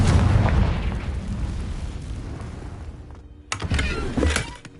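A Confringo blasting spell explodes in the video game Hogwarts Legacy, a loud, dense rumbling blast. A short dip follows, then a second burst of crackling impacts.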